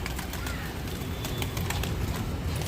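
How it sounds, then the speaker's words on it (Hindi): Pigeons arriving at a rooftop loft during rainy weather, with soft cooing and fluttering over steady broadband rain or ambient noise, moderately loud and continuous with brief clicks. "ये देखो भाई ये आ रहे हैं कबूतर इनके।"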